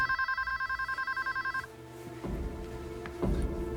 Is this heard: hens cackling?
no